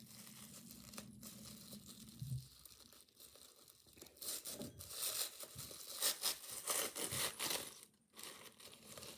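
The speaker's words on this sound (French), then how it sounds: "Maintenant, on va ouvrir le petit sac où dedans, il y a 2 grelots, 2 yeux mobiles et un pompon." A small plastic bag holding two little bells, two googly eyes and a pompom is opened up close, giving quiet crinkling and tearing rustles that build in bursts toward the end.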